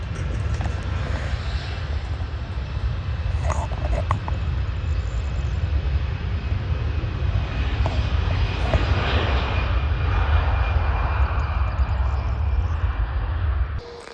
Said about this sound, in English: there is a Pegasus A320 Neo.